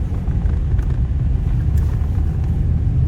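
A car driving across a high grassland plateau road, heard as a steady, loud low rumble of engine and road noise from inside the vehicle, with no pauses.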